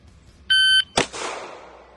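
A pistol shot timer gives a sharp electronic start beep at a practice range, and a moment later a single handgun shot cracks loudly and rings off into the surroundings.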